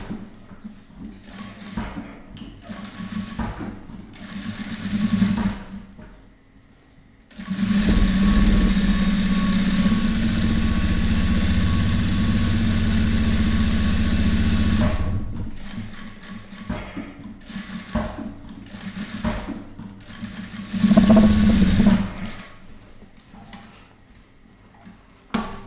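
A sewing machine stitching a full-collar plain blouse, running in steady whirring bursts of several seconds with pauses between, one long continuous run in the middle, close and fairly loud.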